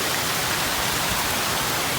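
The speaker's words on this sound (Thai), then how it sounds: "ฝนตกเนียอยู่จ้า" Steady rain falls while mushrooms are gathered outdoors, a dense, even hiss of drops filling the whole clip at moderate loudness with no voices over it.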